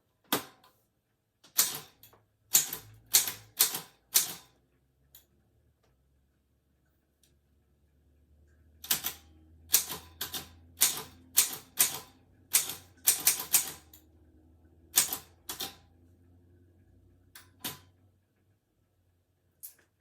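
Keystrokes on an old typewriter, struck in quick bursts of sharp, close clacks separated by pauses, with a softer machine rumble beneath the second run of typing.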